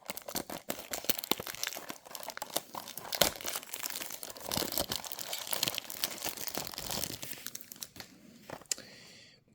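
Plastic box packaging of Majorette diecast toy cars with a caravan and camper trailer being opened, giving dense close crinkling, crumpling and tearing of plastic in a busy irregular run that thins toward the end.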